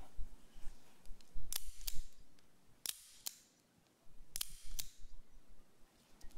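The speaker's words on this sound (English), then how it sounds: "Six shots." A 1951 Colt Detective Special revolver firing six shots, heard as sharp, distant-sounding cracks spaced unevenly over several seconds against faint outdoor background noise.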